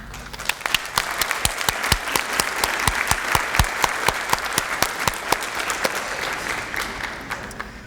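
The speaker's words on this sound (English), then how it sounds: "give them a round of applause for the support that they've given us in achieving our goals" An audience at a school recognition event applauds families and friends, with dense, steady clapping and distinct sharp individual claps standing out near the microphone throughout.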